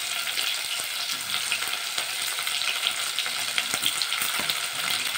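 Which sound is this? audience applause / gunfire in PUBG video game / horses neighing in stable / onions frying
onions frying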